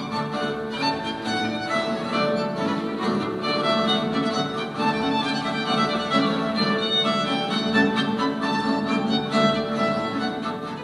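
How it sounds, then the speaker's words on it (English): Trumpet music from an older historical period plays continuously at a fairly even level, a steady stream of bright brassy tones with no talking over it. "So this is the trumpet."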